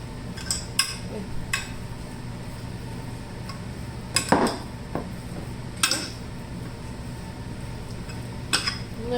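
Spoon and bowl clinks while carne asada steak is mixed with seasoning: scattered light metallic taps and scrapes, irregular and close, over quiet room noise.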